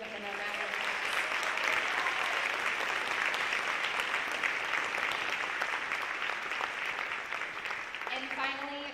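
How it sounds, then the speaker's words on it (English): At a senior honor night, an audience breaks into sustained applause, a thick, even roar of clapping from a large crowd that holds steady for the whole stretch, with brief voices at the start and end. "Please give them a round of applause."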